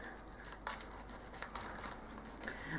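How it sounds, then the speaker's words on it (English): A deck of Cardfight!! Vanguard cards is shuffled by hand, giving quiet, close crisp riffles and slides with a few sharper snaps, faint and without talk. "Shuffle the deck."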